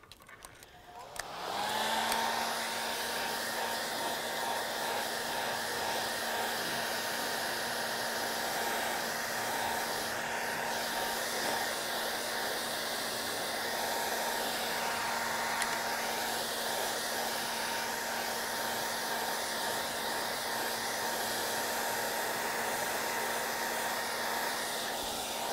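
A hair dryer blows steadily over a watercolor painting, a loud continuous whooshing whine with a constant motor tone that starts after a brief click and runs unbroken.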